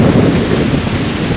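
Strong wind roars in broadband gusts across an outdoor wind turbine test site, buffeting the microphone continuously with no voices.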